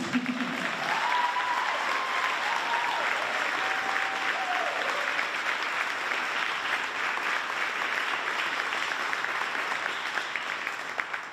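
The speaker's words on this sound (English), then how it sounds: "Can we give them one more round of applause?" An audience at a high school spring band concert applauds in a steady, sustained wash of clapping lasting about eleven seconds, with a brief voice near the start.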